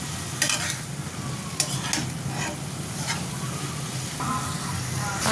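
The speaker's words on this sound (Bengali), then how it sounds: "এখন শাকগুলো ভালো করে ভেজে নেব।" Jute leaves fry in a pan with a steady sizzle, broken by several sharp scraping stirs of a spatula, close and fairly loud with no talking.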